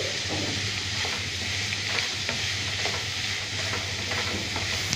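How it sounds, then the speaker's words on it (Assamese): Veg roll filling mixture being stirred in a pan, a soft steady sizzle with repeated light scrapes of the spatula, close and even, no voices. "এতিয়া আমি গোটেইখিনি মিশ্ৰণ ভালদৰে এনেকৈ কিছু সময় লৰাই থাকিম।"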